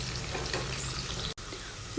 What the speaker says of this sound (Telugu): సో మంట సిమ్లో పెట్టుకొని ఫ్రై చేసుకోవాలండి.